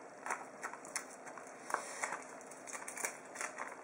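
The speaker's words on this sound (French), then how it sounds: "Donc on va ouvrir ce strap là maintenant." A Pokémon trading card booster pack is torn and opened up close, quiet crinkling foil and paper rustles with short sharp tearing bursts scattered unevenly throughout.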